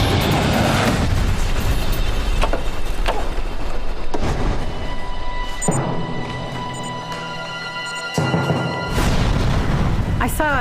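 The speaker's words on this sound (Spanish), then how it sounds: "Vi una explosión gigante." Deep booming roars and rumbling bursts fill the scene of an Aeroméxico DC-9 airliner crash, loud and sustained with abrupt cuts between heavy blasts and lingering low-end rumble, with voices layered in.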